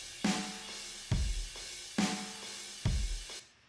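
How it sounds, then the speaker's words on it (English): Modern metalcore drum one-shots: four punchy hits spaced about a second apart, each a deep kick-and-snare thump with a bright crash wash that decays, loud and dry with no voices. "Then the drums and the chorus are also one-shots from a modern metalcore pack, which sound like this."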